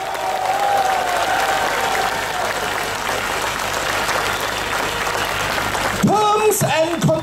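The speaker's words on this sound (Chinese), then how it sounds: "明白的话拍手" Applause with cheering from a crowd at a political talk in a coffee-shop forum, sustained and loud for several seconds, then cut off as a voice begins speaking over a public address system.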